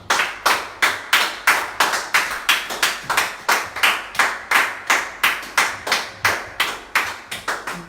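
Rhythmic group clapping from a church congregation during a French-language service, steady beats about four per second, loud and close, with no talk over it.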